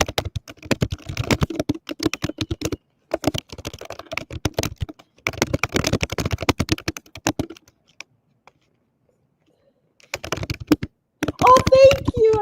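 Rapid typing on a computer keyboard, close and crisp, coming in bursts of dense key clicks with pauses and a silent gap, and a voice briefly speaking near the end.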